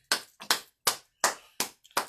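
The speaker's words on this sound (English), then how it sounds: "I clap." Six sharp hand claps, close and clear, land in a loose, uneven rhythm with short silent gaps between them.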